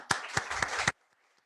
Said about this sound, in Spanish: Este es un aplauso para las y los diputados de América.